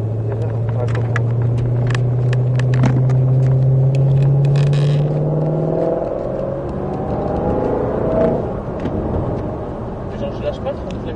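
A Shelby car engine revs and accelerates as a loud, close rumble, its pitch rising steadily, then dropping as the car shifts gear, with voices talking over it inside the car.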